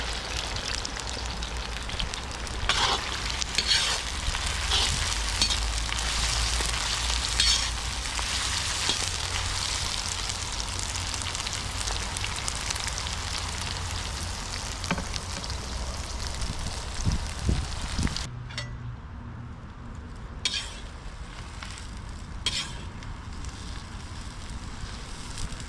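Meat frying in hot oil for a shashlik-plov dish, a dense continuous sizzle and crackle that drops to quieter popping and spitting partway through.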